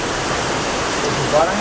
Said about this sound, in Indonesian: Sepertinya hujan di luar itu deras banget, angin juga kencang.